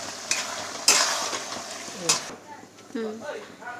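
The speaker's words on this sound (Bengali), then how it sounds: "এরপর আমি সব পনিরগুলোকে মিশিয়ে দিলাম।" Paneer stirred in a sizzling frying pan for chilli paneer, with a little water and sugar added, crackles loudly with spatula scrapes and clinks against the pan, then a voice begins talking over the quieter frying.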